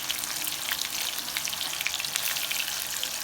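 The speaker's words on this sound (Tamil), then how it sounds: "மீடியம் ஃப்ளேமில் வச்சு நல்லா ப்ரௌன் கலர் ஆக வரைக்கும்" Chicken 65 pieces deep frying in oil over a medium flame give off a dense, continuous sizzle with fine popping bubbles, loud and close, steady throughout with no talking.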